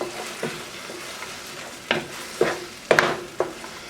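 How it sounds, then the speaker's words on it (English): Soba noodles and ground beef are stirred in a hot pan, a low steady sizzle broken by several distinct scraping strokes of a utensil against the pan, close and clear. "I'm going to stir this all up."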